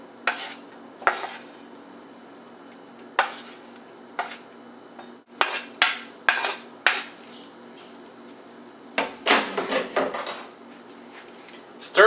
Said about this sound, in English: Stir those around as your beef begins to cook.